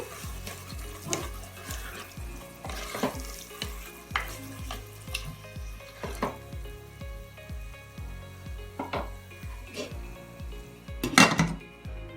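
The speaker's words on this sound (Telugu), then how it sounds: "అల్లం వెల్లుల్లి పేస్ట్ కూడా 1 నిమిషం ఫ్రై చేసుకోవాలి, కొంచెం రా స్మెల్ పోయే వరకు" Ginger garlic paste frying in a pan for mutton curry: a soft continuous sizzle under regular scraping and clinking strokes of a spoon stirring against the pan, with one louder metallic clatter near the end.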